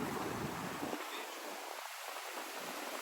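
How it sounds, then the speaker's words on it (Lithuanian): Strong wind blows at a seaside lookout at Xel-Ha, a steady, loud rushing roar with rumbling gusts over the surf and a faint trace of voices. "Turbūt nesigirdi nieko kalbų, nes labai didelis vėjas."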